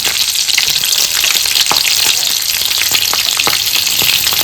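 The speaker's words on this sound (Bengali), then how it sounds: "কড়াইতে তেল গরম হয়ে গেছে তারপরে দিয়ে দিব কাঁচা লঙ্কা" Green chillies sizzling in hot oil in a wok, giving a loud, continuous, close frying hiss with small crackles and pops throughout.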